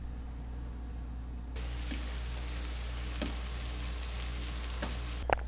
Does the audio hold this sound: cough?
no